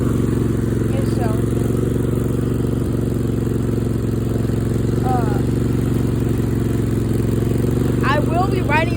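A riding lawn mower engine runs steadily while the mower is driven, a constant droning hum with clattering mechanical noise, heard near and loud throughout, with faint bird chirps in the background.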